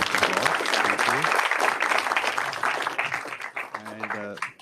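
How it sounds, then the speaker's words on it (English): A conference audience applauds the panelists in a dense burst of clapping that fades over a few seconds, with voices talking over it near the end. "Let's give our distinguished panelists a round of"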